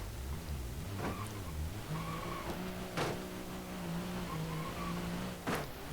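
An Ibishu Chisai 660cc turbo car in BeamNG.drive squeals its tires and revs while crashing and rolling onto its roof, with several sharp impact thuds over a steady engine drone.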